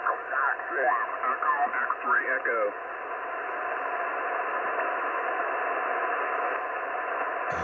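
Ham radio reception on 14313 kHz: a voice comes through for a couple of seconds, then a steady hiss of band static carries on alone, narrow and filtered like a shortwave receiver.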